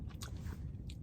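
Crunchy bread of a Philadelphia pizza being bitten and chewed close up, with a few sharp crisp bites standing out over a steady soft chewing noise.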